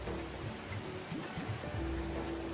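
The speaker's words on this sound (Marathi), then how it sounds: "धबधबा दिसतोय ना जोरात पडतोय" A hidden waterfall in the countryside falls forcefully, giving a steady, fairly distant rushing roar of water that stays even for the whole moment, with no talking.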